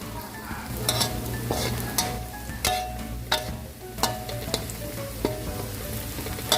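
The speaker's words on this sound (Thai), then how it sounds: "เจียวให้เหลืองเลยนะคะ เหลืองกรอบ" Shallots frying in oil until golden and crisp, a steady close sizzle with stirring scrapes and a few sharp utensil clicks on the pan, no talking.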